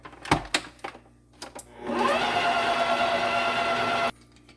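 Pound cake batter being mixed by an electric stand mixer, a few bangs and knocks at first, then a steady motor whir for about two seconds that stops abruptly.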